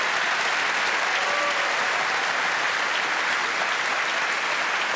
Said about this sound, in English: Please thank our panel, Paul Kelly, Tasneem Chopra, Elizabeth Pisan